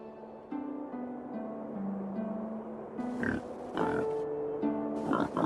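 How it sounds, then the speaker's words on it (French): A wild boar grunts while rooting in snow in the Kazakh mountains near Lake Kaindy, close rough snorts and grunts under sustained background music. "le sanglier fouisse les sols avec son groin."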